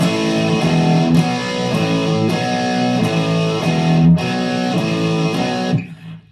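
Distorted electric guitar power chords ring out in a chugging riff, using A5, E5 and B5 shapes, sustained and loud, before cutting off near the end.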